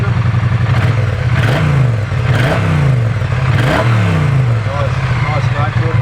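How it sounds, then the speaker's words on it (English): A 2017 Triumph Street Cup motorcycle with its standard exhaust revs hard three times, each blip rising and falling over a steady close idle, with some clatter underneath. "Nice note to it for a standard motorcycle."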